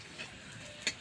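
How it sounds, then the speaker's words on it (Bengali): Chillies and onions frying in a pan, a soft continuous sizzle with a couple of brief utensil clicks, close but fairly quiet, with no talking. "এই মুহূর্তে লঙ্কা পেঁয়াজ সব ভাজা হচ্ছে"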